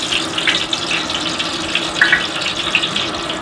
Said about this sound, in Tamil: ஒரு 1/2 லிட்டர் எண்ணெய் ஊற்றிக்கலாம்.